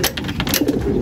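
Young racing pigeons coo and call softly while settling into a loft on their return from a race, a steady low murmur of several birds throughout.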